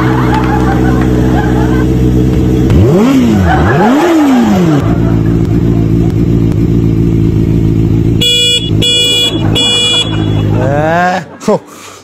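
A motorcycle engine idles loud and close with a steady low harmonic drone, revving up and down in a couple of rising and falling sweeps, with horn-like beeps near the end as people talk over it.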